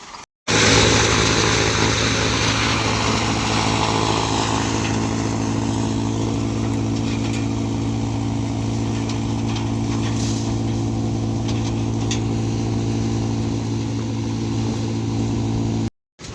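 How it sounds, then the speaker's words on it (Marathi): Engine-driven chopping machine shredding sugarcane into silage, a loud steady drone with a constant hum that runs almost without a break, with faint crunching from the cane being cut. "आता ऊसाची कुटी करून घ्यायची."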